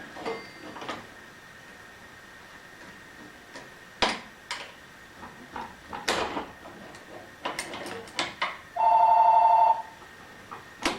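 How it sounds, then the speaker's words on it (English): A telephone rings once in a short electronic burst near the end, after scattered knocks, clunks and rattles in a workshop where a disk belt sander is being rebuilt. "And then of course we answer the phone."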